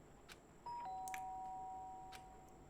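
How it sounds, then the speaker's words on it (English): A two-tone ding-dong doorbell rings once in the Danganronpa video game, clear and close over a quiet background. "The sharp sound of a doorbell pierced my sleepy haze and pulled me back to the real world"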